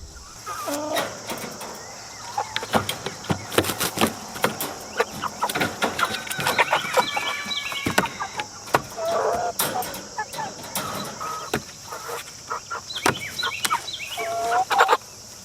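Cornish cross meat chickens cluck and squawk nearby in a steady, busy chorus of short calls, with a constant high background hum.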